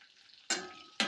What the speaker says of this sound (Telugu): ఇందులో కరివేపాకు వేసుకొని స్టవ్ బంద్ చేసి కిస్మిస్ కూడా వేసేసుకుందాం